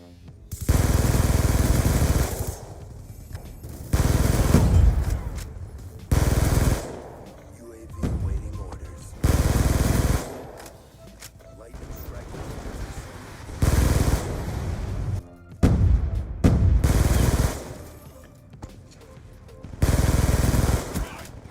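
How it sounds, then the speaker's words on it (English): Scorpion Evo submachine gun from Call of Duty Black Ops 2 firing in repeated rapid bursts, each a loud, close, harsh rattle lasting a second or two, separated by short quieter gaps. "This is probably the scariest sounding gun in Black Ops 2."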